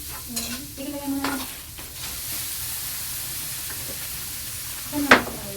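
Food sautéing in a pan in a farmhouse kitchen, with stirring scrapes and a soft steady sizzle throughout, brief voices early on and a sharper burst of frying near the end.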